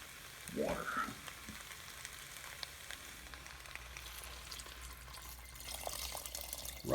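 Water pours into a rice cooker pot for hobo stew with a quiet, steady rushing wash and a slightly louder splash near the start, heard alone at a modest distance.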